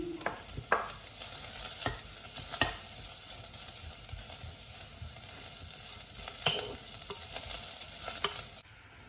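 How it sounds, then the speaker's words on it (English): Shiitake mushrooms sautéing in a pot, a continuous crackling sizzle broken by repeated sharp spatula scrapes and knocks at irregular intervals, close up, with no one speaking. "Then saute the shiitake too."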